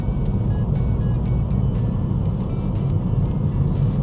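Car accelerating along a road during a driving-practice route around Northallerton, heard from inside as a steady low engine and road rumble that stays constant with no speech over it.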